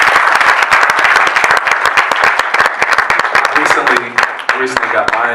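Loud, dense applause from an audience at a 2018 recognition-week ceremony, with many hands clapping steadily and close by; toward the end a voice begins talking over the fading clapping.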